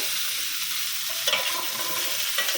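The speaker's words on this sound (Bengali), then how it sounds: "ফুলকপিগুলো লাল লাল করে ভাজা নিচ্ছি" Cauliflower pieces fry in a pan with a loud, constant hissing sizzle and an occasional stir.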